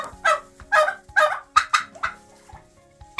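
Chickens in a coop on a frigid winter day let out a run of short, closely spaced clucks and squawks, fairly near and moderately loud, with brief pauses between bursts.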